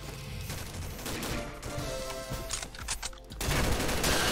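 Sustained rapid turret gunfire in Combat Arms, a dense stream of shots with brief stuttering dips near the middle before swelling louder again, close and heavy with no talking.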